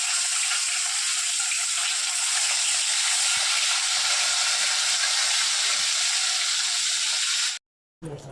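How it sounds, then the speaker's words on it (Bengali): Bata fish frying in strained oil in a Bengali kitchen, a steady loud sizzle and hiss that carries on without a break before cutting out abruptly near the end. "মাছটা মাখিয়ে নিয়ে কিন্তু এই ছাকা তেলে ভাজতে হবে"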